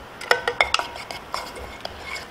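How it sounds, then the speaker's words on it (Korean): Onions being lightly sautéed in melted butter over low heat for potato cream soup, with a faint hiss under a series of bright utensil scrapes and clinks against the pot. "자, 양파 살짝만 볶아줍니다."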